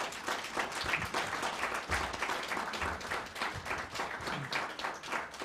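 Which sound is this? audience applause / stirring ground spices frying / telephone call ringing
audience applause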